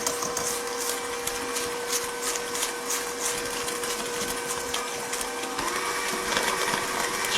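An electric mixer hums steadily and evenly at close range while combining strawberry chocolate chip muffin batter in a bowl, running without pause and with no talking.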